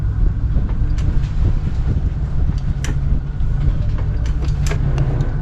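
Strong wind buffets a boat at a fuel dock, a loud, steady roar of wind noise with low rumble throughout, alone with no talk.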